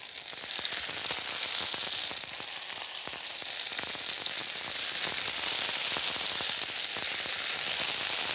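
Burmese meatballs frying in vegetable oil, a dense, steady sizzle with scattered crackles and pops running continuously at close range.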